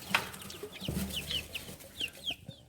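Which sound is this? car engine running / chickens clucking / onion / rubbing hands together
chickens clucking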